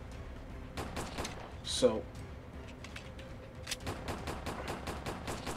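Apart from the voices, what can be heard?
gunfire shooting at player in SpongeBob fan video game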